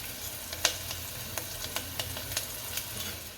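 Chilies and spices sautéing in a pan for chana batata shaak, a soft steady sizzle broken by a handful of sharp crackling pops spaced irregularly, close and quiet with no voices.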